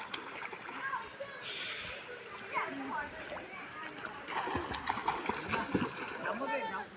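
Someone swimming in water outdoors: continuous splashing and sloshing close by, with voices talking and a few bright bird-like chirps over the watery wash.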